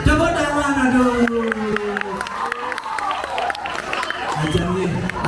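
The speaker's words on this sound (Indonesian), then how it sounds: "Tepuk tangan" Audience at a Balinese bondres comedy performance at a temple clapping and cheering, a moderate burst of applause over crowd babble.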